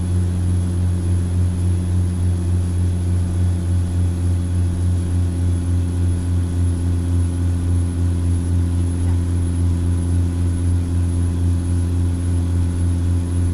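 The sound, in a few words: truck engine with rhythmic pulsating, video game American Truck Simulator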